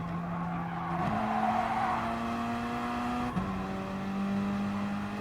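A Gr.4 race car lapping Willow Springs in Gran Turismo, its engine droning at steady pitch with a few abrupt gear-change drops, plus a hissing tire and road wash, continuous and close with no talking.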